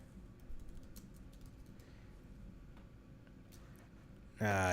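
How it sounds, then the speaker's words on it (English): Faint, scattered keystrokes come from a computer keyboard being typed on, soft irregular clicks over a steady low hum, and a louder buzzy burst cuts in at the very end. "Let me see if I can just type it in."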